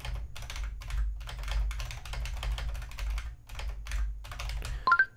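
Rapid, uneven tapping of a computer keyboard continues for several seconds in bursts with brief pauses, over a low steady hum, ending in a short bright electronic chime; nobody speaks.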